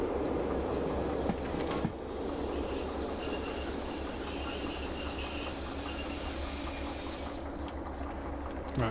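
Locomotive and rail cars rumbling through a rail yard in the Derail Valley train simulator game, a continuous close rolling roar with metallic wheel squeal and clicking over the track, steady throughout with no voices.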